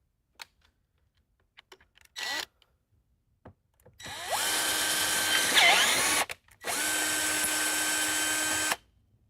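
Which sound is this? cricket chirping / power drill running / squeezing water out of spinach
power drill running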